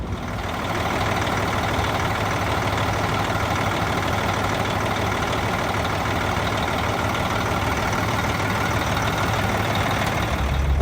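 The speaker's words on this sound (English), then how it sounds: "Just let it idle for probably 3 or 4 minutes without doing anything other than let it idle" Diesel truck engine idles steadily after a new turbo install, a close, loud, even low rumble with constant mechanical chatter and no voices.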